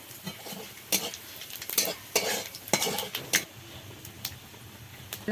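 Dried red chillies, bay leaves and panch phoron crackle and sizzle in hot oil up close, broken by irregular sharp clinks and scrapes of a utensil stirring the pan.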